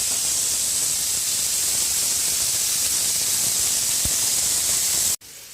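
Cauliflower pieces fry in hot oil, giving off a steady, even sizzling hiss at close range that runs unbroken and stops abruptly near the end.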